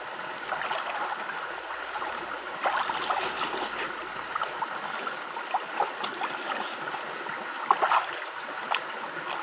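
Natural mountain spring water flows steadily in a continuous, moderately close wash of running water, with small splashes and trickles standing out now and then.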